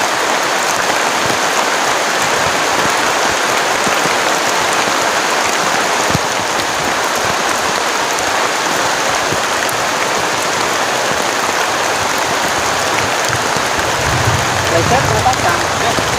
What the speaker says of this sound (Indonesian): Oke teman-teman, hujannya deras banget.